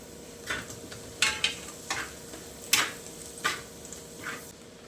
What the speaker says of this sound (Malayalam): ഈ ഒരു പരിവാവുന്നിടം വരെ നമ്മൾ സവാള വഴറ്റണം